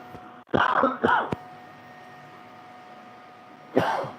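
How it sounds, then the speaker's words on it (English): A few sharp, close coughs in a short burst, then a pause of quiet hum before one more cough. "As I cough a lung up"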